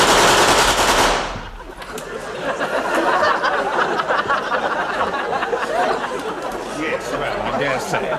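A comedy sketch has a gun going off in a loud burst of rapid, noisy fire. Excited voices and chatter follow and carry on underneath.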